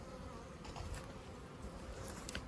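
Honeybees drone steadily in a newly split hive made in early spring, a continuous close buzz of many insects with no voices.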